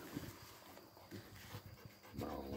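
A Bruno de Jura hound, a hunting dog, pants in quick rhythmic breathy bursts close by, steady over a noisy outdoor background with no talking.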